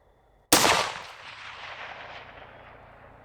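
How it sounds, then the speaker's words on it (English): A single loud rifle shot fired at night toward steel targets, a sharp crack followed by a long rolling echo that fades over about three seconds; no voices. "bullets are smacking that steel. Those are some loud thuds. Not so much a ding, but a thud."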